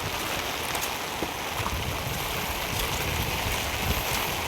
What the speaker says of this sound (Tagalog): Break time muna. Saka naulan din.